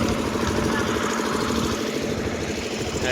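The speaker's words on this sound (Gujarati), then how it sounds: "મશીન ચાલુ છે" Steady low rumble of a fishing boat engine running continuously, close by and fairly loud, at Okha port during a severe storm.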